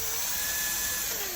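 A power drill bores into the inside of a fuel injector hose grommet, well clear of the hose barb, on a Jaguar XJS V-12 injector. It gives a thin, steady high-pitched whine at moderate level with no breaks.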